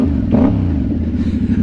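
A 2024 Yamaha R7 twin-cylinder motorcycle engine rumbles loudly at startup, a deep steady idle with a brief rev swell early on, heard close with no talking.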